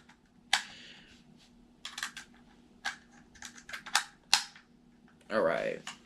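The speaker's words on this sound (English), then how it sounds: "Let's load this guy back up with the 3 rounds." Rifle rounds in 7.62x39 being pressed one by one into an AR magazine, giving sharp, close metallic clicks at irregular intervals, quiet overall, ending in a brief rattling scrape.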